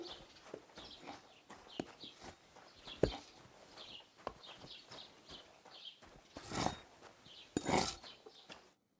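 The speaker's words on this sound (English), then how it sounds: "Oh, there's horses down there." Horses in Kingdom Come: Deliverance 2 near the stables, with a steady run of clip-clopping hooves, footsteps and soft shuffles under faint background movement, ending in a couple of louder rustling bursts.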